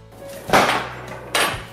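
Two clattering knocks of a metal baking tray being handled in a kitchen while chicken goes in for biryani dum, each a sharp clang with a short ringing tail, spaced under a second apart.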